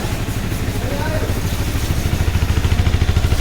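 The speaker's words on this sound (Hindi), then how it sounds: "अभी मैं इसका एग्जॉस्ट नोट भी सुना दूंगा।" A Honda CBR 250 motorcycle engine idles loudly and steadily close by, with a rapid low thumping pulse that grows slightly stronger toward the end. Voices can be heard in the background.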